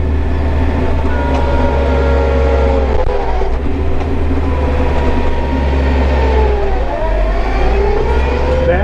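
A Kioti RX series tractor with a power shuttle runs loudly close by, a steady low engine drone with rising and falling whine as it shifts between forward and reverse, and someone talks over it.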